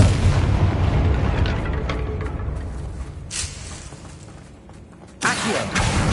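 Confringo fire spell detonating in Hogwarts Legacy: a heavy booming blast with rumbling roar that fades, then a second sharp burst near the end, loud and close with no talk.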